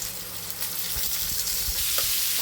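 Potatoes and green tomatoes frying together in a pan, a steady close sizzle with a few soft stirring knocks, no talking.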